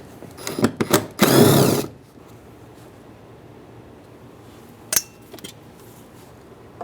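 A ratchet with an extension loosens 10 mm bolts on a Mazda CX-9 door: a quick run of close clicks, then a loud burst of rapid ratcheting, followed by quiet and one more sharp click.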